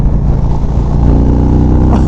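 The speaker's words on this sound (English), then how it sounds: "getting all the power of this 116 ThunderStroke V-twin engine" A 2025 Indian Springfield Dark Horse motorcycle with a 116 ThunderStroke V-twin engine accelerates, its loud, steady low-pitched rumble filling the whole stretch without pause, close to the listener.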